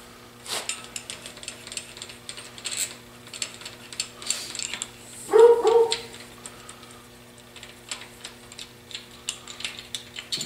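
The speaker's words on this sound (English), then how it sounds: "we better pop these head bolts out" A ratchet wrench works loose the head bolts on a 377 engine, with scattered close clicks and ratcheting strokes in an irregular rhythm, one louder burst near the middle, against a faint steady background hum.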